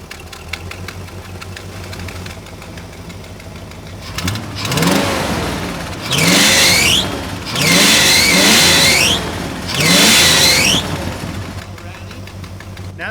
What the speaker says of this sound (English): I'm gonna try to give it a little bit of throttle.